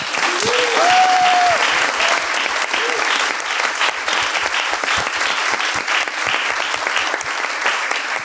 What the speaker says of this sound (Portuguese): uma salva de palmas também para Ariadne